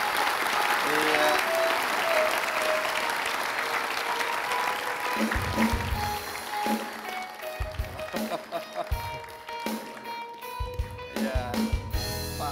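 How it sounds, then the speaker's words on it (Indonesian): An indoor studio audience on the Kick Andy talk show applauds a guest, Pak Tan Quang Hua, with dense sustained clapping that fades as music continues and a host starts speaking. "Mari kita berikan aplaus untuk Pak Tan Quang Hua."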